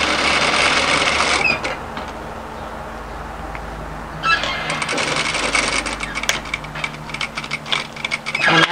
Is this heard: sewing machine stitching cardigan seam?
yes